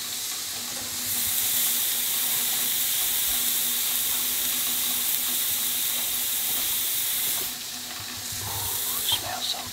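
Deer backstrap venison searing in a pan: a steady, loud sizzle and hiss close up, easing a little near the end.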